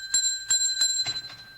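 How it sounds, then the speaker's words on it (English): A hotel desk bell is struck repeatedly to summon a clerk: four or five bright, ringing dings in quick succession, close and loud, each leaving a short metallic tail. "I've been ringing your bell."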